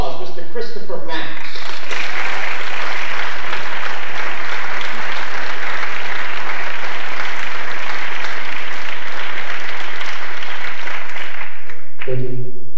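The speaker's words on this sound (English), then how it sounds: "Please, a nice round of applause, Mr. Christopher Max." Loud, sustained audience applause fills a concert hall during an arts festival benefit at The Music Hall in Portsmouth, New Hampshire, with a brief voice at the start and at the very end.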